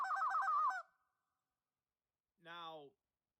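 A person's voice imitates a flock of geese for running traffic during a goose hunt, giving a quick series of honking calls followed after a pause by a single drawn-out honk.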